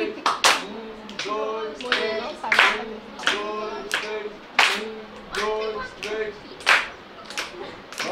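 A group of people clapping hands in a steady counted rhythm, sharp close claps in repeated sets of three, alternating with a voice speaking and counting between them.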